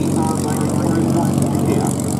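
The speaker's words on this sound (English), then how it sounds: "The Beaver with a 450 horsepower Pratt & Whitney" A de Havilland Beaver with a 450 hp Pratt & Whitney radial engine drones steadily and loudly, a continuous propeller roar at an airshow at Duxford, UK.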